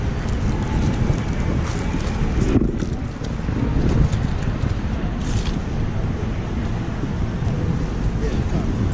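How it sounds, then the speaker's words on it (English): Strong outdoor wind buffets the microphone with a constant heavy rumble and roar for the whole stretch, with a brief dip partway through. "Wind was killing us."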